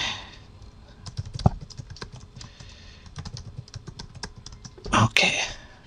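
Root password being typed on a computer keyboard, a close run of quick uneven key clicks with short pauses and a louder burst of keystrokes near the end.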